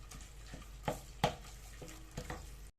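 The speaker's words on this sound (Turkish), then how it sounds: "Eriyen tereyağının içerisine bir yemek kaşığı dolusu domates ve biber salçası karışımı ilave ediyorum ve salçamızı da biraz kavuruyoruz." A spoonful of tomato and pepper paste fries in melted butter, with soft sizzling and a few close, distinct scrapes and taps of stirring in a quiet kitchen.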